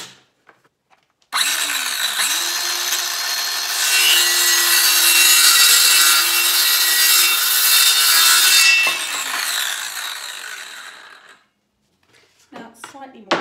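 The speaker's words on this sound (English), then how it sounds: "Now it's slightly more awkward cutting a dowel, but the principle remains the same." A hand saw cuts a wooden dowel in one long, loud, close stretch of rasping strokes, preceded by silence and followed by a few faint knocks.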